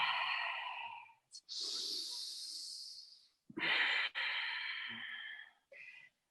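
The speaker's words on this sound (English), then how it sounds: "Deepening breath, lengthening breath, harmonizing your breath." Deep, slow breaths during a vinyasa yoga flow, with long airy inhales and exhales separated by brief pauses, close and clear, with a few quick sharper intakes and no talking.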